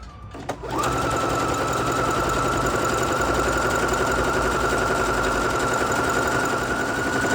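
A Singer Heavy Duty 6805c sewing machine stitches a decorative festoon (blanket) stitch along the edge of towel-style fabric. The motor whirs loudly in a fast, steady buzz that kicks in after a brief pause and runs on without a break.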